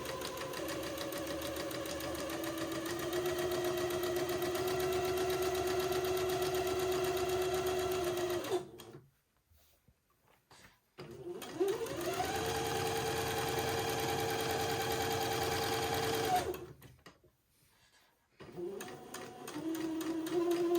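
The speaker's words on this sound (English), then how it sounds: "complete the second part of my French seam. Using a 1/4 inch seam allowance this time" A sewing machine runs in two long steady bursts while stitching the second pass of a French seam with a quarter-inch allowance, a fast even mechanical whir that stops, pauses briefly, then starts again, close and alone.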